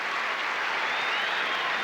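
Crowd at Pauley Pavilion applauding a men's gymnastics exercise at a 1982 USA–China dual meet, steady sustained clapping filling the whole moment, even and moderately loud with no talk over it.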